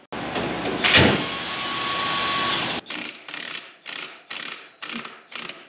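A socket wrench with a 27 mm socket works the rear axle nut of a Honda Africa Twin motorcycle. A steady mechanical whir comes first, then five evenly spaced, crisp ratchet clicking bursts, close and loud.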